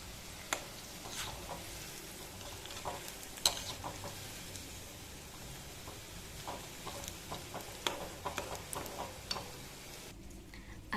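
Cauliflower pakoda frying in hot oil in a pan, a steady soft sizzle broken by scattered clicks and taps as the pieces are gently stirred.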